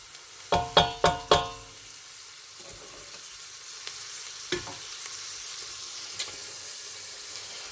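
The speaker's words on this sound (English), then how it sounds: "I'll start to fry your onions for a few minutes." Onions frying in a pan for a keema madras: four sharp knocks of a utensil against the pan up front, then a low sizzle with soft stirring scrapes and occasional taps.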